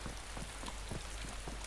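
Rain falling in the survival video game DayZ, a dense, even patter of drops on surfaces, steady and continuous with no voices.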